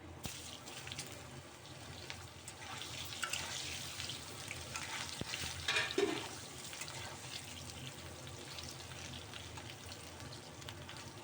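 Cut potatoes fry in hot oil in a pan for a Bengali katla fish curry, a steady dense sizzle running throughout with a brief louder flare partway in.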